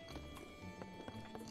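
Horse hooves clip-clopping with a whinny in the video game Zelda Breath of the Wild, steady clopping over game background sound with faint voice at times.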